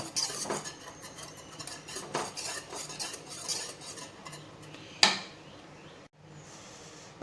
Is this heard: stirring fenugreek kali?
yes